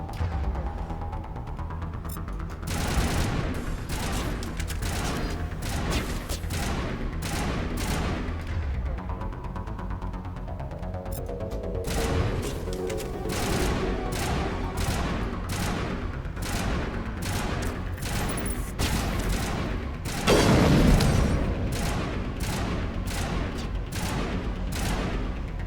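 Sci-fi weapon fire in Mass Effect, rapid bursts of shots in quick succession with booming impacts, loud and close, continuing in volleys throughout with a louder blast near the end.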